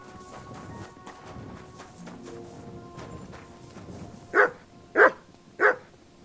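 Three loud, sharp dog barks in the Kingdom Come Deliverance 2 video game, spaced about half a second apart, following quieter ambient game sounds with faint hoofbeats.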